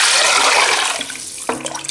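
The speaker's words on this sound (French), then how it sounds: "Alors je vais mouiller avec 1 litre d'eau." Water poured from a container into a cooking pot, a full litre going in at once: a loud, broad rushing splash that tapers off, then a brief knock and ringing from the pot near the end.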